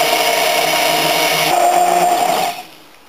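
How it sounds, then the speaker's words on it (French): A kitchen blender whirs loudly and steadily while mixing a preparation that will later be strained through a sieve, then cuts off abruptly near the end, leaving a faint tail. "là j'ai bien mixé pendant à peu près 5 minutes"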